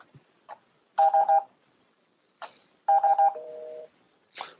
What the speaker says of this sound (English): that's making a phone call